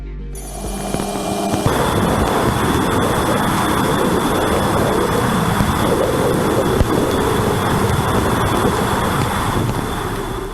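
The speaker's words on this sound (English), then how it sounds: "untouched sound of plasma waves as recorded by Voyager 2 during the flyby of Neptune" Raw plasma waves picked up by Voyager 2 during its Neptune flyby, heard as a continuous rushing, wind-like roar with a faint steady whine above it after a brief abrupt start.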